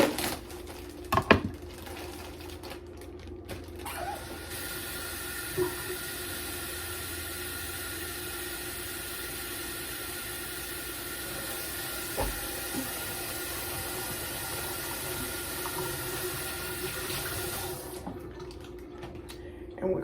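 Running water rinses shredded carrots, a steady, close hissing stream that continues for most of the time with a few clunks at the start, and a voice speaks over it.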